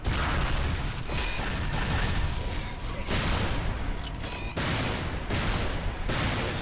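Instant one-shot gun firing in an Unreal Engine 3 showcase shooter, several sharp bursts at roughly one-second intervals over loud, busy game noise, with a bright whine near the middle.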